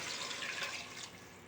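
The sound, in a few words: water poured into pressure cooker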